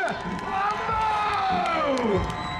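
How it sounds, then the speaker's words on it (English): Crowd at the UK Monster Truck Nationals cheers and whoops over a trophy presentation, with children shouting and voices rising in a loud, sustained roar. "Give them a big cheer!"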